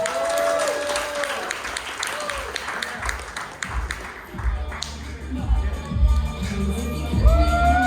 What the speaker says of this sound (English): Please give a warm round of applause for Sarah Borsari.